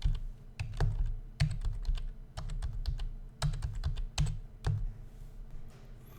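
Clattering keystrokes on a computer keyboard while entering spreadsheet data, with irregular bursts of quick taps and sharper single key hits close up, and no talking.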